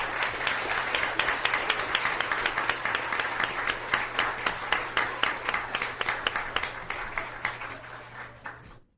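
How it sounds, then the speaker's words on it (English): An audience at a regular board meeting claps for a Point of Pride award honoree, individual claps clearly audible in a steady rhythm that slowly tapers before stopping abruptly. "I'd like to give her a big round of applause"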